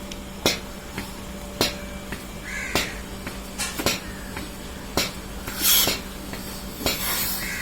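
A milking machine runs on a cow during midday milking. Its pulsator ticks in a steady rhythm about once a second over a constant low hum, with a few scattered rasping noises nearby.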